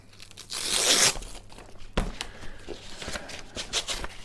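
Rolled shooting mat being unwrapped, with a loud tearing rip like hook-and-loop straps pulling apart, then softer rustling and crinkling of the fabric and straps, close by.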